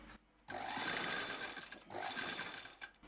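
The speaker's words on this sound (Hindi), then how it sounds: "ऐसे ही प्लेन पे थोड़ा छोड़ के सिलाई लगाएंगे" A sewing machine stitches a frill frock in two close, fast mechanical bursts, with a short pause between them and quiet gaps at the start and end.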